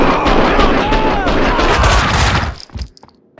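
Dense gunfire in the video game Max Payne 2 crackles loudly and continuously, with sharp overlapping shots and booms that thin out into a few scattered hits near the end.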